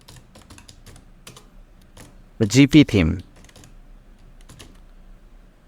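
Rapid clicks of typing on a computer keyboard while entering a title in a notification campaign tool, with a brief burst of a person speaking in the middle of the clatter.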